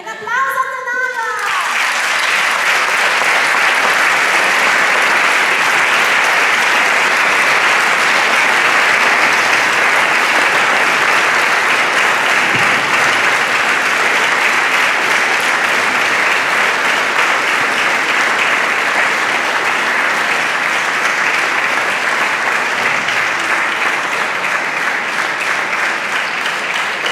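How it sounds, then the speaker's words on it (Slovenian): Sustained audience applause at a children's choir concert, loud and dense clapping that starts right after a brief spoken line and carries on evenly for the full length, with faint children's voices mixed in. "En aplavz za Tanajo!"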